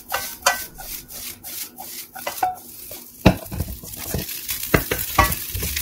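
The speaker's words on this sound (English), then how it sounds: "Make sure to stir it well. Forgive my tossing, I'm so bad at it as you can see." Egg fried rice being stirred and tossed in a pan, with repeated scraping and rubbing strokes of a utensil against the pan and a few sharper clatters from tossing, over a faint sizzle.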